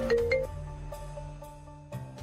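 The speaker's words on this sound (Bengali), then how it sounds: "পাবলো ফোন করছে, কোনো সমস্যা হলো নাকি?" A mobile phone ringtone plays a melodic electronic tune, sustained tones with a brief pause before the melody resumes, loud and close with no talking.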